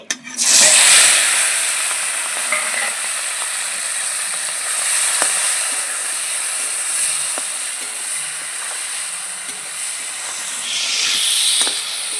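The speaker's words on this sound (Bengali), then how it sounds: "মাছগুলো ভেজে নিচ্ছি" Fish sizzle loudly in hot frying oil for a Bengali pointed gourd and prawn dish. A strong hiss swells right at the start and holds steady with occasional pops and crackles, rising again near the end, with no talk.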